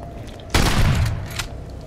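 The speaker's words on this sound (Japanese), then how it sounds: "遠くからハンドガンで銃撃するか" Handgun shooting in the survival horror game Daymare 1998, a loud close burst of rapid shots with echoing tails, then a fainter single report shortly after.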